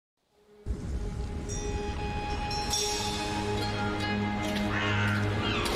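A crow in a video game caws harshly over a sustained musical game backdrop, the cawing entering suddenly after a brief quiet start and continuing loud and close throughout.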